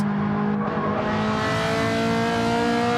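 A rear-wheel-drive Ferrari race car in Gran Turismo loses grip and spins after running wide, engine droning loud and steady with layered harmonic tones throughout, no voices over it.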